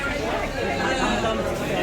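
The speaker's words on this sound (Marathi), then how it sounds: "इकडे तिकडे चोहीकडे गर्दीच गर्दी" Steady crowd babble at a busy roadside restaurant in a village during election time, many overlapping voices close around with no single clear speaker.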